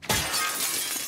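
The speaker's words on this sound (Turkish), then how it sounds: "Yine cam kıracağız, hadi." Glass shatters in The Last of Us Part II, a single sharp crash followed by a short tinkling spray of fragments, loud and close, with no talk over it.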